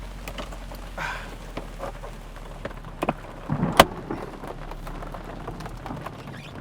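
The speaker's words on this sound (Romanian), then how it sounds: "Iar m-a fugărit ploaia, m-a prins din urmă" Steady rain patters on a Mazda MX-5 convertible with its soft top up, a continuous soft wash of drops with a few louder splashes near the middle, no voices.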